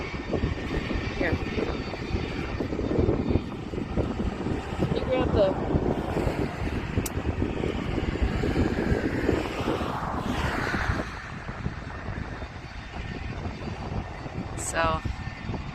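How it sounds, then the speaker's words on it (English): Doomsday Plane flying nearby, a broad roaring jet-engine rush with wind buffeting the microphone, sustained and loud, with a person talking at times over it. "we found out that this is actually the Doomsday Plane"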